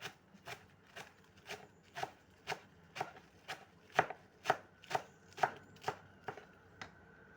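A knife finely chops Singapore spinach on a board. The crisp, evenly spaced strikes come about twice a second, around fifteen in all. They sound close but faint, with no talking.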